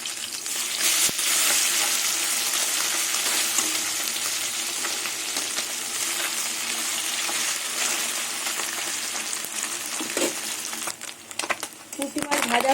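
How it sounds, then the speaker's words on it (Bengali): Puti fish frying in hot mustard oil in a wok give a loud, steady sizzle that fills the whole stretch, with brief clatters of turning near the end. "এবার পুঁটি মাছগুলো তেলে ভেজে নেব।"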